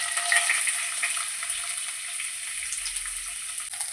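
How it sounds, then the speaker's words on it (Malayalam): Mustard seeds and urad dal frying in hot coconut oil, a steady close sizzle with faint crackles and pops, no voices. "വെളിച്ചെണ്ണ ചൂടാകുമ്പോഴേ കടുക് പൊട്ടിച്ചിട്ട് അതിനകത്തേക്ക് ഉഴുന്നുപരിപ്പ് ഇട്ട് കൊടുക്കുക."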